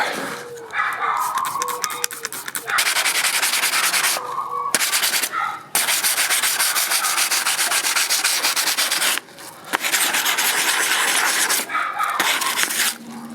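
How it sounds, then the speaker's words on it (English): Hand sanding the painted body of a 2001 GMC Sierra 2500HD with sandpaper wrapped over a folded scuffing pad, loud, continuous rasping strokes with a few brief pauses, close and alone. "I just take the scuffing pad and fold it in half and put the sandpaper over it like this"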